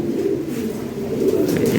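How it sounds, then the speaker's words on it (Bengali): Lahori Siraji pigeons cooing steadily and close by, a continuous low throaty purring that swells slightly toward the end, with no talk over it. "এটা নিউ এডাল কবুতর খুব সুন্দর কবুতর"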